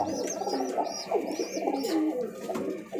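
Several pigeons coo in soft repeated rolling phrases close by, with higher chirps mixed in and a steady hum of background noise.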